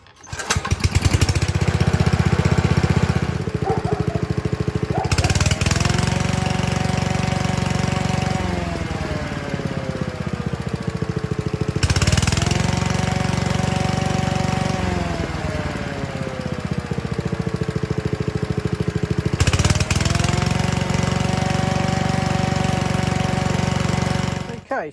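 A lawn mower engine starts and runs loud and close, its revs rising and falling repeatedly, with a slight stutter each time it accelerates hard from idle.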